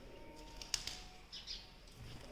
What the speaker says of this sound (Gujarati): કબૂતર આવ્યું ને તે.